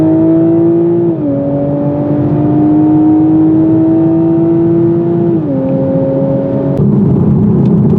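A 2020 Toyota Supra sports car pulls hard, its steady engine drone heard from inside the cabin, rising in pitch and dropping twice as it shifts up through the gears.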